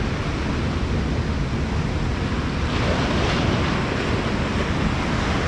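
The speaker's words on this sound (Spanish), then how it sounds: "no había olas, ahora se puso brava" Rough ocean surf surging against rocky shore ledges where fishermen stand, a steady loud wash of breaking water and spray with wind noise and no voices.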